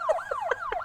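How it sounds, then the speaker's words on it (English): An ambulance siren in the hospital management game Project Hospital wails in a quick, repeating up-and-down pattern, cycling about three times in under a second at moderate volume. "Oh, God, here comes an ambulance."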